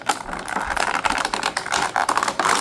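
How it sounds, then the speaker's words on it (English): Jakks Pacific Shadow the Hedgehog action figure pulled from plastic packaging, a dense run of close crinkling, crackling and rattling plastic with quick irregular bursts. "let's just pull him out of the packaging"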